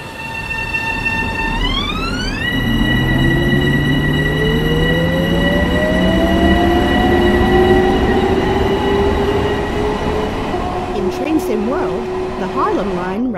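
A Harlem Line commuter train in the video game Train Sim World 2 hums and whines steadily as it pulls away, motor tones climbing in pitch, with electronic beeps early and rattling clatter building toward the end.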